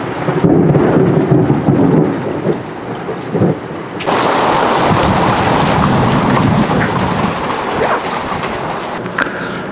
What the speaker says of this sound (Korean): 낚시를 할 수 없을 정도로 천둥번개와 함께 비가 엄청나게 내려가지고 잠시 낚시를 중단했고요